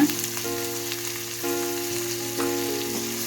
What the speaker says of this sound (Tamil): தக்காளியும் சேர்த்து போட்டுட்டு வதக்கி விட்டுக்கலாங்க